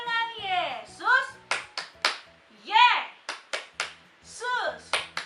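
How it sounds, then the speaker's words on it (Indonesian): Children sing an Indonesian Sunday school song at a home church service, punctuated by sharp rhythmic hand claps between the sung phrases, several claps in quick succession, close and clear. "Kita sekali lagi ya. Tepuk tangan Yesus."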